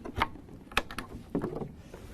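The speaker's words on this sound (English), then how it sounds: "undo our latches" The latches on the tank of a Karcher Presto 3 carpet cleaner are undone, giving a few quiet plastic clicks and snaps spaced out over a couple of seconds with no talking.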